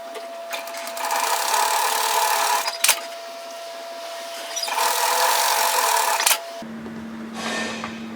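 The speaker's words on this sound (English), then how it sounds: "sew a seam directly through that overlocking line to create the top of our pocket" A sewing machine stitches a seam straight through an overlocked edge to form a pocket top on a robe, running in two steady, fairly loud bursts with a brief pause between, then giving way to a softer, different hum.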